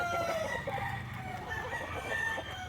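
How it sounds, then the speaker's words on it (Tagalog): A Rhode Island Red rooster crows faintly in the distance over a steady farmyard background of clucking chickens and low ambient noise. "ito naman yung ating Rhode Island Red na rooster"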